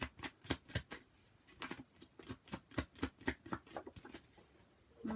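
Rapid, rhythmic riffling of a tarot card deck being shuffled, crisp bursts repeating close up with no talking.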